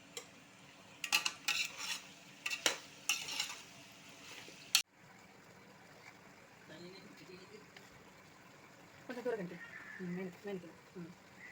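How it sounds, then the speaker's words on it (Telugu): A spoon stirring chicken curry in a metal pot, with rapid clinking scrapes over the first few seconds ending in a sharp knock, then quiet bubbling while someone talks softly. "ఇప్పుడు చికెన్ కర్రీ వండుతున్నాం"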